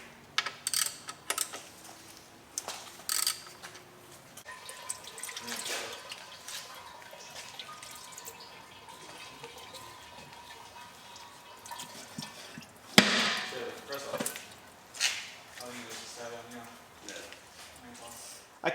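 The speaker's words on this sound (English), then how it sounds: "there is quite a slow drip coming from the sump" Engine oil drips slowly from the sump of a 2018 Nissan Qashqai 2.0 litre petrol into a drain pan, quiet irregular drips heard under a man's speech in a workshop setting.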